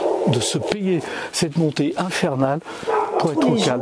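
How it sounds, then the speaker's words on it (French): A neighbourhood dog in the hillside streets of old Lyon barks in a run of short, repeated woofs, closely mixed with someone speaking over it. "Mais Bah, le voisinage, c'est un chien"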